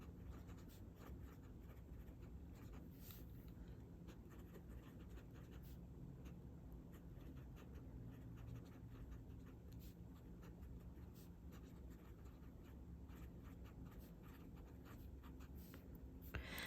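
A fountain pen nib scratches steadily across paper, a soft, continuous close-up scraping with faint stroke accents, very quiet and alone throughout.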